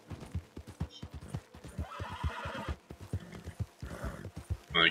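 A horse in the Red Dead Online video game trots with rapid, steady hoofbeats, then gives several loud neighs and whinnies over the clip-clop, close and prominent.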